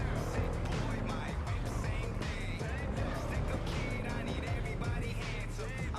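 Car driving in the Cyberpunk 2077 video game, a steady engine drone and road noise running continuously at close range, with game audio and a voice layered over it.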